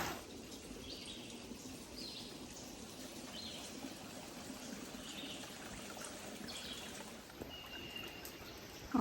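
Small waterfall trickling beside a creek at a backpacking campground, a steady soft wash of running water heard from a little distance, with faint bird and frog calls in the background.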